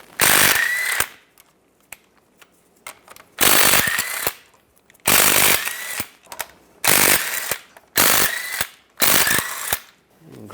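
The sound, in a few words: ratchet with 15mm socket removing CV shaft bolts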